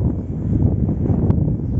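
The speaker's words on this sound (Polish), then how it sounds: "A to, co usłyszycie na nagraniu, to jest tylko dźwięk przekładni, która pracuje." A wind turbine's gearbox runs with a steady, low mechanical hum and faint rushing noise, continuous and even for the whole short stretch.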